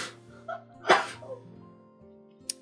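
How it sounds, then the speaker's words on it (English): One sharp, fairly loud sneeze from a person bursts out midway, followed by softer breathy sounds, with quiet background hum and a brief faint click near the end. "Oh, I'm gonna sneeze."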